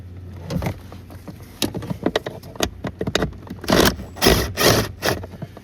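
Screws being backed out of the blower motor on a 2011 Dodge Ram 3500 6.7L, with close scraping, rubbing and clicking of the tool and metal, irregular at first and then several louder sustained bursts of ratcheting and rubbing.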